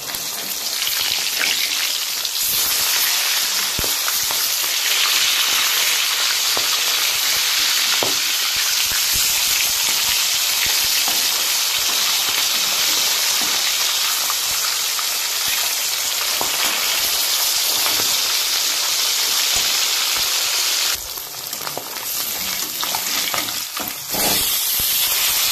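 A three-kilo fungur fish frying in hot oil in a pan gives a dense, continuous close sizzle with crackling spits and occasional utensil scrapes, easing briefly near the end.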